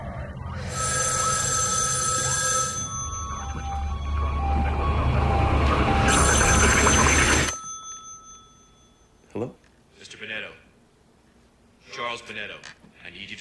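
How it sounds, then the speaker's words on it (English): A telephone rings insistently in a house in a TV drama, loud repeated bright electronic trills that stop abruptly partway through, followed by a quiet room with a few short spoken exchanges. "Why don't you answer the phone?"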